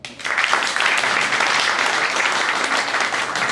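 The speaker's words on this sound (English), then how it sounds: "By a round of applause, who has never seen me before?" Audience applause fills a comedy theater for a singing comedian, a dense steady wash of many hands clapping, loud and sustained throughout after a brief quieter start.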